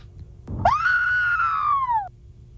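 A single prolonged high-pitched scream from a sound effects library, played back over a phone, rising sharply then holding for about a second and a half before cutting off, preceded by a brief thump.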